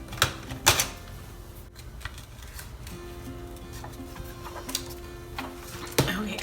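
Paper shapes being cut out by hand for a planner, producing crisp scissor snips and paper rustles in short bursts with quieter handling between, close and fairly soft, no talking.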